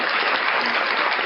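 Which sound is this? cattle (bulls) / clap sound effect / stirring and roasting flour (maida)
clap sound effect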